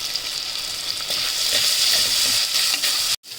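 Onions frying in a pan with turmeric and salt for raw mango dal soup, a steady bright sizzle running close and loud for about three seconds before a brief cut, with no talking.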